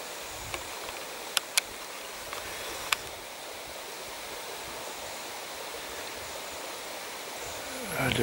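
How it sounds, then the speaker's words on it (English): Water streams steadily over stones near a sandy lakeside road, a soft continuous rushing wash broken by a few sharp clicks early on, with no voices. "It's streaming water."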